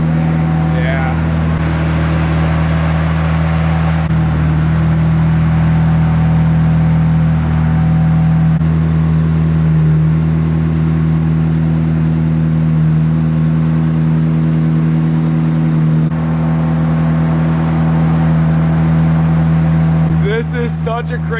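A rebuilt, previously wrecked McLaren 720S sits running in a garage with a steady, low engine hum, while people talk over it and a brief clatter comes near the end.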